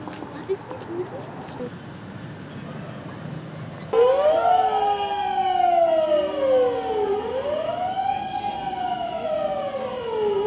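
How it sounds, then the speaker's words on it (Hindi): A wailing ambulance siren in a Tokyo street rises and falls in loud sweeping tones as it passes nearby, starting abruptly after quieter street ambience with faint background activity. "और ये था एम्बुलेंस का सायरन"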